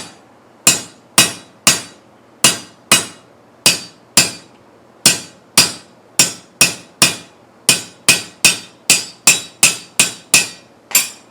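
Hot half-inch steel bar struck repeatedly with a hammer to draw it down, a steady run of about two dozen sharp, loud ringing blows at an even forging rhythm with no talking.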